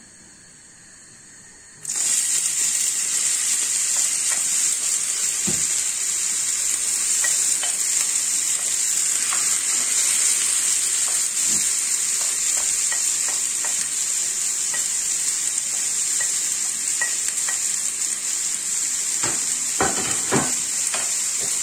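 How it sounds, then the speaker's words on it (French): Onion with a mix of coriander and parsley hits well-heated oil while making stuffed white cabbage, bursting into a loud, steady sizzle after a brief quiet moment, with occasional stirring clicks close by. "une fois l'huile elle est bien chaude, on rajoute un oignon et un petit mélange de coriandre et persil"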